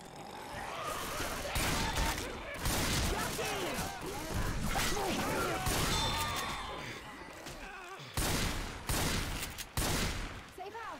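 Gunfire in the co-op zombie shooter Left 4 Dead 2, with dense rapid bursts and clanging impacts rattling almost continuously, loud and close, broken by a brief lull near the end.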